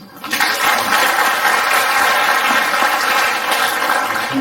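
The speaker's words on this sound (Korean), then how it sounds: "박수." Seminar audience breaks into sustained, dense applause that swells quickly and holds steady, loud and continuous with no talk over it.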